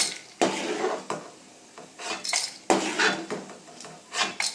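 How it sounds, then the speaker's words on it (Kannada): A fried tomato mixture is scraped from a pan into a blender jar, making a string of close spoon-on-metal scrapes and knocks in uneven bursts. No one speaks. "ಸೊ ಈಗ ಫ್ಲೇಮ್ನ ಆಫ್ ಮಾಡಿಕೊಂಡು ಇದು ಸಹ ಜಾರ್ಗೆ ಟ್ರಾನ್ಸ್ಫರ್ ಮಾಡ್ಕೊಳ್ಳಿ"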